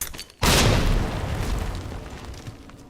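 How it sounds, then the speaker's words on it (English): A grenade goes off in Resident Evil 2 Remake with one loud, sudden boom after a brief quiet stretch, followed by a long rumbling decay. "Let's just go ahead and pull out the grenade."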